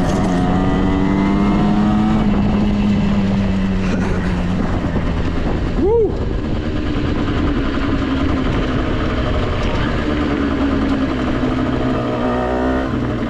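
Gilera SMT 50cc geared moped riding off-road, its engine droning steadily and loudly throughout with rising and falling pitch as it accelerates and eases off, plus wind and rough-terrain noise.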